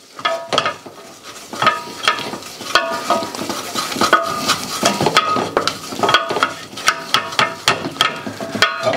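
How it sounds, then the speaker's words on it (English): Flour stirred into melted butter in a pan for a roux, a busy stretch of scraping and clinking as a utensil works around the pan, close, with a faint sizzle underneath. "Then we want to stir it and stir it well."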